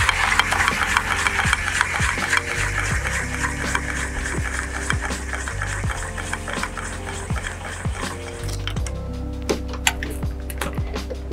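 A camper trailer awning being wound out from its cassette on a Rhinomax Scorpion 10ft micro hybrid camper: steady, loud ratcheting crank clicks and grinding rubs in a regular rhythm, close by with no talking.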